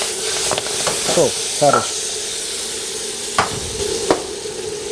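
Spinach leaves sautéing in butter with salt and pepper in a pan, a steady close sizzle with stirring scrapes and soft clatters, a brief voice speaking near the end.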